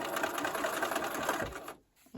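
A sewing machine stitches fabric pieces for a granny-square table topper in a steady, continuous whir, then stops abruptly near the end with a short quiet gap before resuming briefly.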